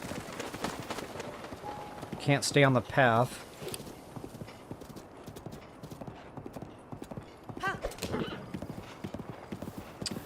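Hooves clip-clop rapidly in a steady galloping rhythm in The Legend of Zelda: Breath of the Wild, with a loud whinny partway through and someone talking over the running horse.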